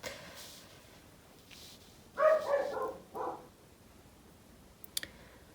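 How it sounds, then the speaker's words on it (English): A dog indoors in a house gives a short burst of two or three sharp barks midway, with a faint click shortly after against quiet room tone. "sorry about the barking dog"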